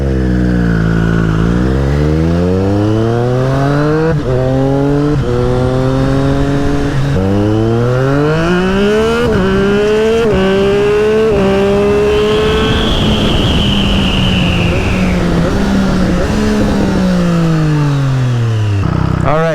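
A Triumph Street Triple RS motorcycle, fitted with a DNA air filter and a reset ECU, pulls hard through the gears while being ridden, its engine note rising steeply then dropping at each shift, loud and close throughout.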